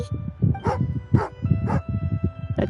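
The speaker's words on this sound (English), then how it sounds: "Angry doggy." A dog in the video game Genshin Impact gives a run of loud, close, rhythmic yips and agitated barks at roughly half-second intervals, heard alone with no talking.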